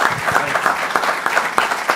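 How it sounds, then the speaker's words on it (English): Applause from the audience at a North Augusta, South Carolina city council meeting, steady dense clapping with a few cheers, close and loud for about two seconds. "Let's give him a round of applause."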